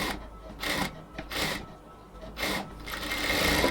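Sewing machine stitching around the neckline edge of a blouse, in several short whirring bursts separated by brief pauses, fairly close and moderately loud.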